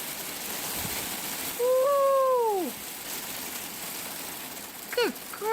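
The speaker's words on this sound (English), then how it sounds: "That's hail." June hail coming down hard outdoors, a continuous broad rattling hiss of ice pellets on surfaces, overlaid by a woman's loud whooping exclamations.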